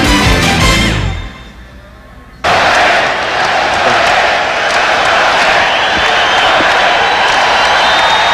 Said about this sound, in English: Well, this crowd is ready here at the Garden.